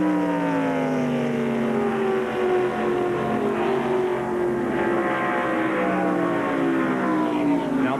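A NASCAR Winston Cup stock car, No. 24, races at Daytona International Speedway during the 1995 Pepsi 400. Its engine roars loud and steady, the pitch sliding gradually downward as it passes, with no talk.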